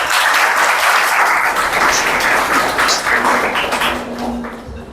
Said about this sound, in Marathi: जोराने टाळ्या होऊ द्या एकदा